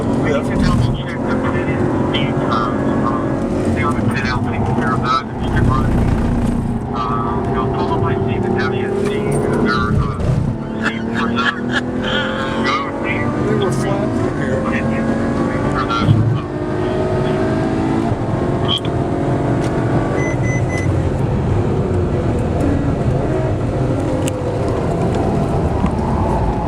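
A race car lapping Circuit of the Americas (COTA) roars continuously, its engine revving hard through braking, downshifts and quick left-right transitions, loud and close throughout, with someone talking over it.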